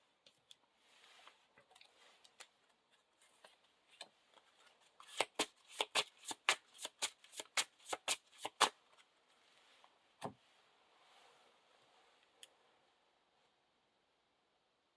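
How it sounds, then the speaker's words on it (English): A deck of game cards shuffled in a quick riffle, a rapid run of crisp snapping flicks, close and clear against near silence, with a couple of soft taps afterward. "Shuffle the encounter deck."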